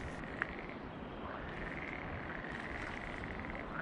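Frogs croak in a pond in a continuous chorus, a faint trilling drone with scattered individual calls over quiet outdoor background.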